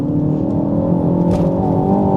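A tuned Mk4 Ford Focus ST accelerates hard in third gear, giving a loud, steady engine roar heard from inside the car with no break or voice.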